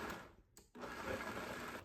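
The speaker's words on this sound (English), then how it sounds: "We're going to just throw this into our blender and we're going to pulse it." Blender pulsing a chunky ginger scallion sauce of green onions and salt on low speed, a loud continuous whir with a brief stop midway before restarting.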